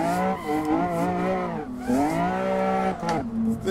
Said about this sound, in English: We're just drifting it.